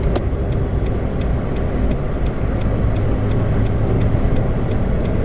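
Nissan March 1.2 hatchback with a remapped ECU cruising on the Cipularang toll road, a steady broadband drone of engine, tyre and wind noise with a faint regular ticking throughout, no speech.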